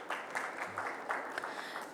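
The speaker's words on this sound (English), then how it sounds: "Can we have a big round of applause for Mr." An audience at a cybersecurity conference applauds a speaker, a fairly faint, loose patter of clapping from a modest crowd, continuous and fading slightly toward the end.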